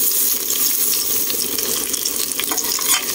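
Pork belly fat sizzles steadily in a hot pan, a loud, continuous frying hiss with occasional stirring scrapes and no voices.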